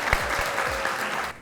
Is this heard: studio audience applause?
yes